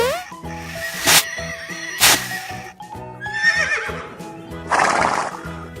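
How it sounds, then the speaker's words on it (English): A horse neighs in loud, shrill whinnies, two sharp bursts followed by longer wavering calls, mixed with clip-clop hoofbeats, set among children's educational animal sounds. "Brown horse."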